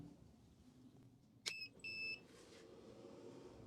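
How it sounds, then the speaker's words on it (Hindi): A beep from an Eastern 3000VA pure sine wave home inverter as a fridge connected to it switches on: a sharp short chirp followed by a longer steady electronic tone, clear over a quiet room hum. "यहाँ पे देखें एक बीप की आवाज़ हुई और ये हमारा फ्रिज ऑन हो चुका है।"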